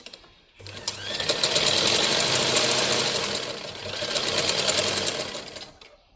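A sewing machine runs a straight seam on a blouse panel, a loud, close, fast mechanical whir that speeds up, dips briefly, then carries on before stopping.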